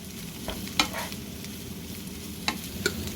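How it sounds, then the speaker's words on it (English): Bacon being stirred into a keto breakfast hash of browned, tender pieces frying in a pan, with a steady sizzle underneath and a few sharp scraping and clinking stirs of the utensil standing out. "add the bacon back in. And stir through to mix well"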